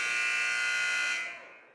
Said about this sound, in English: not able to get a final shot off as the buzzer sounds for the end of the first quarter